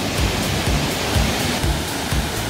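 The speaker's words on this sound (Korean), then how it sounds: "포천 한탄강 비둘기낭 폭포입니다." Bidulginang waterfall on the Hantan River in Pocheon, a steady broadband roar of falling water that holds at an even loudness for the whole stretch, with no voices.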